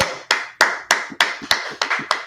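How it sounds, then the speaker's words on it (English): A few people clapping in unison at a UK scripture class, about eight sharp, evenly spaced claps in steady rhythm, close and clear, with no talk over them. "Give me a hand. Clap it up."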